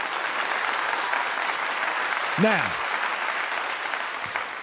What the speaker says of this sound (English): Everybody that's in here, I give you a clap.